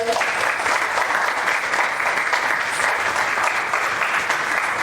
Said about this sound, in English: So round of applause, people.